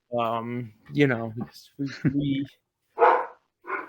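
A dog barks a few times in the background of a podcast recording, with short bursts breaking in among the hosts' ongoing conversation.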